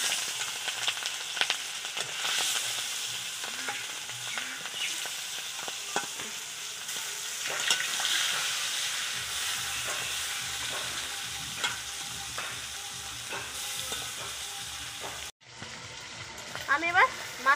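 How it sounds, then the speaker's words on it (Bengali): Fish fries in hot oil in a kadai, a steady close sizzle and crackle running throughout with occasional stirring and scraping, briefly cut near the end before resuming. "আমার এখানে তেল গরম হয়ে গেছে"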